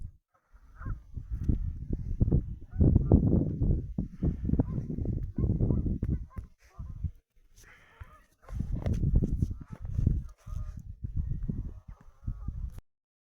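A group of geese on the water honks at close range, loud overlapping calls arriving in repeated waves with short pauses between them.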